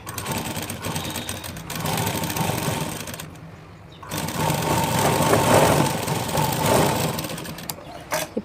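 A sewing machine stitches a blouse in two close, rapid bursts of whirring, rattling needle motion separated by a brief pause.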